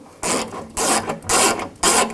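Ratchet with an 8mm socket loosening the window regulator bolts on a 2000-2006 BMW X5, four loud, close bursts of rapid clicking, each about half a second long, separated by short pauses.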